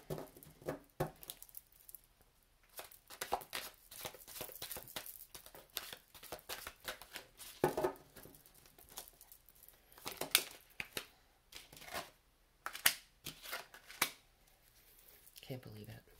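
Playing cards shuffle in several quick, close riffling bursts with soft handling noises between them.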